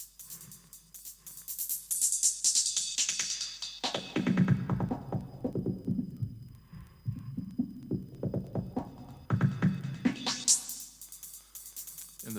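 Linked filters on a Threetom modular synth with the switch in the up position, a throbbing resonant tone sweeping down and back up in pitch, moderately loud and alone.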